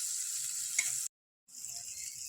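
Cabbage with Kashmiri chilli powder sizzles steadily in a frying pan as it is stirred, a bright continuous frying hiss that cuts out abruptly for a moment before resuming.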